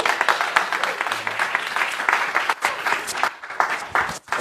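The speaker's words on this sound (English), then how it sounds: "Let's give Andrew a big thank you applause for getting us started." An audience claps for a speaker at a health and happiness talk, a dense, lively patter of many hands that sounds near and full, dipping briefly before continuing, with some voices mixed in.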